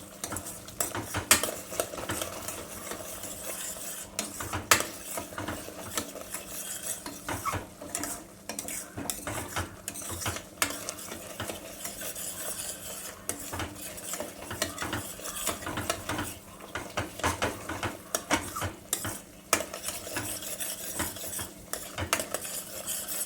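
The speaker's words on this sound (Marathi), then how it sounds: "मिक्स करून घ्यायचं" Chicken masala with Kashmiri red chilli being mixed in a pan, continuous clinking and scraping of a metal spoon against the pan over a low sizzle, close and busy throughout with no voices.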